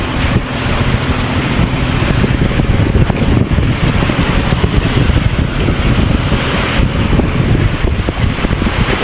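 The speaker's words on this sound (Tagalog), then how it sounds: "Ang lalaki ng alon." Big ocean waves crash and roar continuously around a small boat at sea, a dense broadband wash with heavy wind buffeting on the microphone, loud and close throughout.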